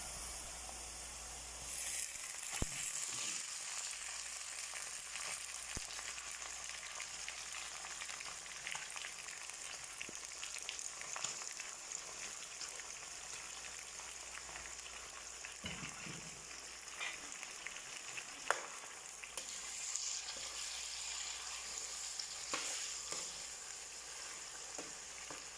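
Pieces of chicken for a Hyderabadi masala sizzle and hiss steadily in hot oil in a pan, a quiet, continuous frying crackle with occasional stirring and scraping, no one talking.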